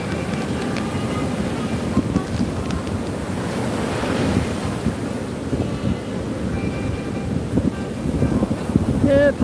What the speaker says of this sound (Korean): 바다 소리, 바다 소리, 바다 소리만 이해해 주세요.